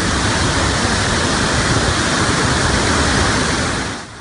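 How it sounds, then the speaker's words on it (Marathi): Water overflowing from the Manjara dam, a loud, dense, continuous roar of cascading water that cuts off abruptly at the end. "ज्या धरणाचं पाणी 43 वर्ग किलोमीटर पर्यंत पसरतं, ते धरण आज ओसंडून वाहतंय."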